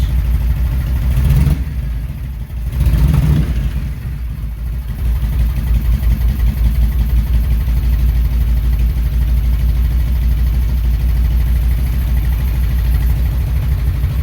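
A 1997 Harley-Davidson Road King idles loud and close, its deep, steady rumble running unbroken apart from a couple of brief dips near the start.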